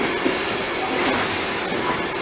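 A modified Southern steam locomotive runs close by, a loud, dense roar of rolling wheels and rail noise with faint squeals and rhythmic clacking, steady throughout with no talking.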